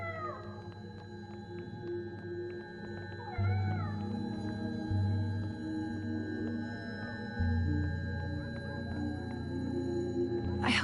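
A cat meows several times in the Life Is Strange Double Exposure video game, short rising calls set against a steady low ambient drone and soft music, with one last meow near the end.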